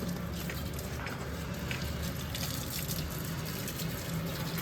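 Water runs steadily from a hose pipe during house cleaning, a continuous close rushing wash with no voices.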